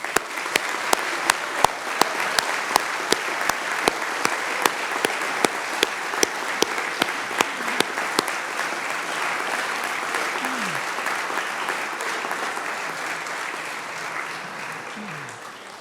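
Audience applause for families at a college ringing-in ceremony, a steady sustained crowd ovation filling the whole stretch, with a few sharper regular claps standing out early on before it slowly tapers.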